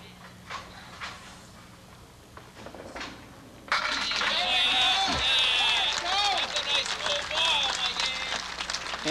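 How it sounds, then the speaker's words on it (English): Applause bursts out from a small crowd at a candlepin bowling match right after a fast strike, loud and sustained after a quiet stretch of low murmuring. "And his brother Tom applauds."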